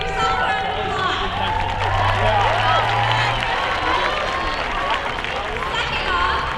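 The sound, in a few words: crowd applauding and cheering at baseball game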